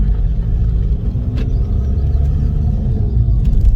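A VW Golf Mk5 2.0 TDI diesel idles just after a service, a steady, close, loud low rumble with a smooth, even tone and faint ticking over the top, no voices.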